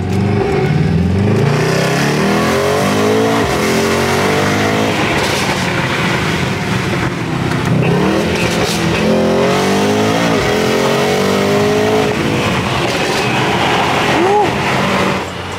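A loud car revs hard inside a parking garage, with repeated rising and falling engine sweeps echoing off the concrete and voices talking over the noise.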